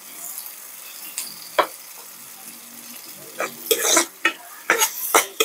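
Sweet potato leaves sauté in a pan with sardines and mashed tomato, giving soft sizzling and a few bursts of stirring and scraping that build toward the end.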